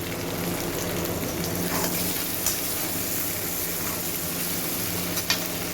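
Chilli chicken frying in a pan as a sauce mixture goes in, a quiet steady sizzle with faint stirring scrapes and no talk.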